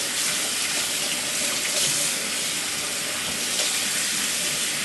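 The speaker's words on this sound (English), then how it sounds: "But you want to rinse that meat really well." Running tap water pouring into a kitchen sink while raw barbecue meat is rinsed, a steady, close, continuous hiss and splash with no pauses and no talking.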